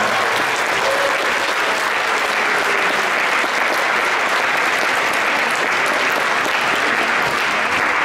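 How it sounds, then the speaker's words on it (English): Audience applause for junior and senior finalists at a 2024 awards ceremony, sustained and even throughout, loud and close with dense clapping and no speech over it. "just to give another round of applause to all of our winners and participants"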